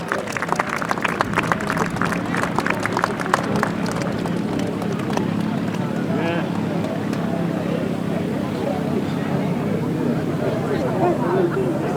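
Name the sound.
crowd applause at grasstrack racing event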